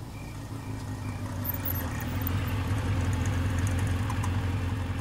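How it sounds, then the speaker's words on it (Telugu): A small auto rickshaw engine rumbles as it pulls up, growing a little louder and then settling into a steady, low idle nearby, with no voices. "మేడం, ఆటో తీసుకొచ్చింది మీకోసమే, ఎక్కండి"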